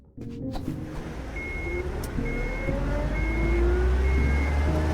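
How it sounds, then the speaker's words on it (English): A truck engine in the video game UnMetal starts up and settles into a deep, steady rumble that grows slightly louder, with a faint high repeating beep above it. "Crap, they started the engine."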